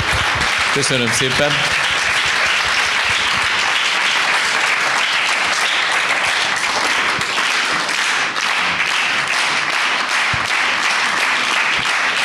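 Audience applause for a musician fills the room, a dense steady clapping throughout, with someone briefly speaking thanks over it near the start.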